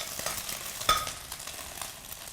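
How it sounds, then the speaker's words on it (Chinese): Egg is stir-fried dry in a wok, giving a steady sizzle broken by scraping strokes and one sharp clack of the utensil against the pan, with no talking. "鸡蛋呢一定要炒得干一些，"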